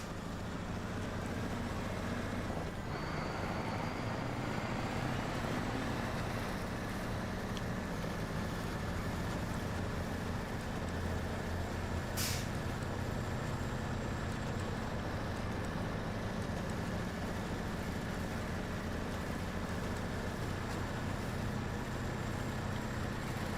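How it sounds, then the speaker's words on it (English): A Pacific P16 truck in SnowRunner idles and runs with a steady, low, continuous engine drone that holds evenly for over twenty seconds, with no talking over it. "Yeah, the Pacific P16. Yeah. It's the same engine sound"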